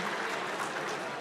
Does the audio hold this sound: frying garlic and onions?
no